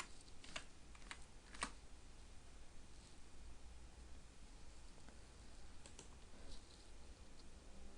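Quiet keystrokes on a computer keyboard while searching customer records in accounting software, a few scattered clicks early on and again later, faint and close against a soft background hiss, with no speech.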